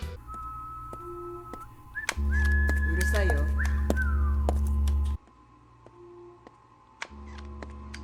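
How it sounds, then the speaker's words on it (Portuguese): A submarine crew member whistles a thin, wavering tune over a loud steady low hum, with scattered clicks and ticks around it. "uma parte que um membro do submarino tá assobiando"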